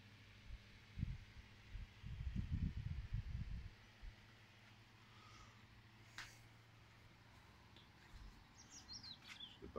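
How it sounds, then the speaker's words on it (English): Small birds in a city garden give a few faint, scattered high chirps. Louder bursts of nearby rustling come first, and the whole scene stays quiet. "The birds."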